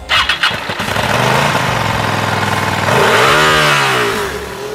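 A Hyosung GT250R 250cc V-twin motorcycle starts with a few sputtering cranks, then its exhaust settles into a loud, close idle before being revved up in a rising and falling swell, with no talk over it.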